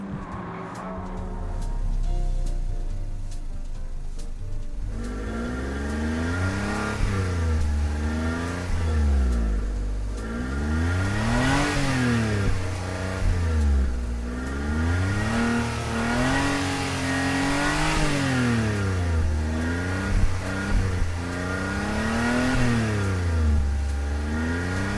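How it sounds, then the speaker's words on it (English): A Suzuki Carry KC12 in Gran Turismo 7 revs its small engine again and again, its buzzy pitch climbing and falling in repeated sweeps at a steady, prominent level. "that is the very distinctly peppy noises of the Suzuki Carry"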